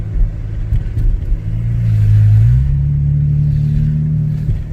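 A car drives through a snowstorm, its engine a loud, close, steady rumble that swells and rises in pitch as it speeds up, then settles into an even drone.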